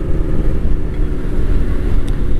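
Kawasaki Ninja two-stroke motorcycle on its stock exhaust, a steady, subdued low engine drone running throughout with no talk.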